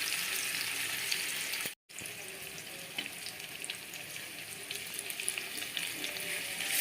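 Fish fries in a pan with a bright, continuous hiss of spitting oil, close and steady, cut by a brief moment of silence early on before the sizzle resumes, with no speech.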